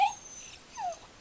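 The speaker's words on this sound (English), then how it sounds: "And that was my dog, so I apologize. She just yawned." A dog gives a short, whiny yawn with a high squeaky onset, then a second brief moan-like whine, heard alone and fairly close.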